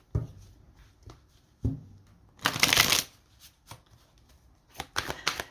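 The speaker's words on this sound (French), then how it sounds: "Je pose les 9 cartes" Arcanum tarot cards placed one by one with soft papery taps and slides, plus a brief louder shuffling rustle in the middle, close and quiet.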